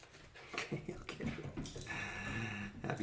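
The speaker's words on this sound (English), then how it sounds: "Happy dog, happy dog." A happy dog pants and whimpers close by in short, breathy bursts, with a few higher whines over steady panting; no one speaks.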